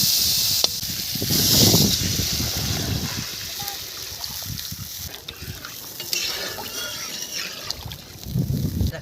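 Water goes into a pan of fried spice masala for a fish curry with chopped green chilies, giving a loud hiss and bubbling surge, then stirring and a renewed burst of sizzle near the end.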